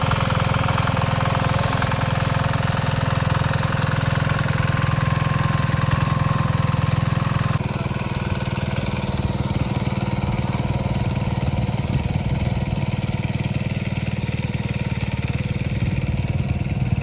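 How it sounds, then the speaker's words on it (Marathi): A diesel engine hooked up to drive a farm water pump motor on a rice field at paddy-planting time, running steadily throughout with a dense, continuous drone and no talk over it. "मोटरला इंजिन लावून चालू करूया।"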